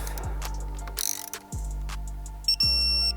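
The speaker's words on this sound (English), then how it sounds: "this is going to get torqued down to 8 Newton meters" A torque wrench ratchets in short clicking bursts while fuel injector bolts are tightened on a BMW N55 engine, with a low steady hum in the background.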